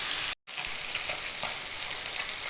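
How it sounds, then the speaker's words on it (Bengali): Pieces of rohu fish, coated in salt and turmeric, fry in oil with a dense, continuous sizzle and crackle, close and fairly loud, broken by one brief silence near the start. "মাছগুলো সব ভেজে নেব।"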